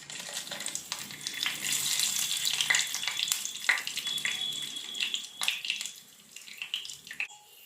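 Whole spices fry in a pan for prawn biryani: cinnamon pieces, cardamom, peppercorns and cloves give a continuous crackling sizzle with sharp spits and pops, fading a little toward the end.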